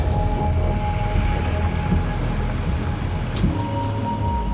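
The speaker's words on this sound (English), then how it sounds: "Portugal was a great challenge that day due to the torrential rain." Heavy rain pours steadily in a dense hiss on a race track in Portugal, with a low rumbling racing engine drone underneath throughout.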